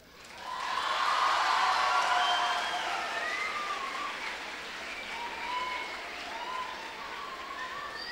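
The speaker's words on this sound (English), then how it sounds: "Too bad he's not here to listen to the applause" Audience at a conference breaking into applause, a dense wash of clapping that swells quickly, holds for a few seconds, then tapers to a lighter, thinning patter.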